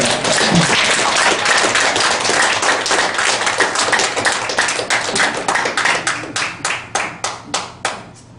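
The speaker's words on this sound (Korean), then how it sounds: "이럴 때도 박수 좀 쳐주겠네요" Audience clapping at a breakfast lecture, a loud burst of many hands that thins out into slower, separate claps trailing off near the end.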